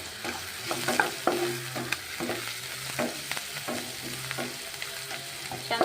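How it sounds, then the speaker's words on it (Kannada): Garlic, coriander and cumin fry in hot oil for a gram flour palya, a continuous crackling sizzle with repeated stirring scrapes and light clicks of the spoon against the pan. "ಹಾಗೆ ಎಣ್ಣೆ ಒಳಗೆ ಫ್ರೈ ಆಗುತ್ತೆ ಗೋಲ್ಡನ್ ಕಲರ್ ಪರ್ವಾಗಿ ಫ್ರೈ ಆಗ್ಯಾವಲ್ಲ"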